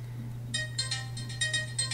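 A phone ringtone, a short bright chiming melody in repeated bursts over a steady low hum, close and moderately loud with no talk.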